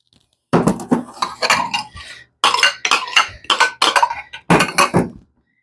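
Light cream is stirred into veal cutlets in a pan with a run of quick metal-on-pan clinks and scrapes in bursts, loud and close, with brief pauses between strokes.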